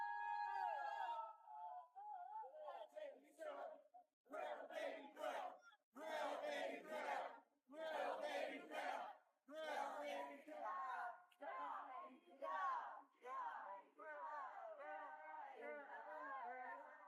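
A political rally crowd roars and chants in repeated loud surges with short pauses between them, the cheering swelling and falling, then settling into a continuous clamor of many voices.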